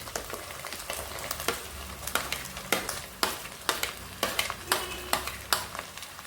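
Chopped tomatoes sauté in butter for pav bhaji, a steady close sizzle and fry broken by repeated scraping stirs of a spatula against the pan, no voices.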